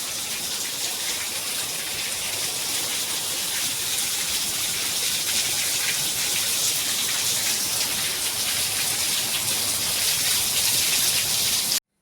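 Heavy rain pours steadily in a dense, constant hiss that holds for the whole stretch, with no voices.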